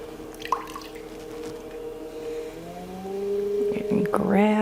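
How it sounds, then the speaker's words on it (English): Water dripping and trickling as clay is thrown into a cylinder on a spinning pottery wheel, small wet drips over a steady motor hum, close and fairly quiet, with a voice talking briefly over it. "More water cascading down."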